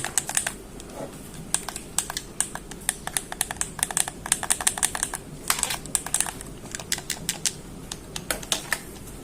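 Plastic buttons on a copy PS4 controller pressed in quick irregular clicks, close and crisp, in bursts of taps with brief pauses between them, no talking.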